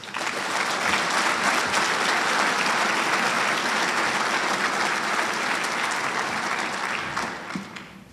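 Sustained applause from a large audience at a formal Marine Corps logistics awards dinner, a dense steady roar of clapping lasting about eight seconds before tapering slightly at the end.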